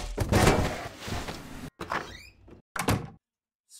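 A door opening in a video game, with a loud, dense thudding and rumbling burst followed by short scraping and creaking bursts, ending in silence.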